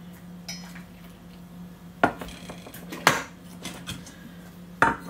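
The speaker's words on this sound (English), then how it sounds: "now I'm just going to ladle some of the syrup in there till about an inch from the top" A ladle knocks against a jar while pineapple syrup is poured in during home canning, with a few sharp clinks and taps over a quiet steady hum, close by.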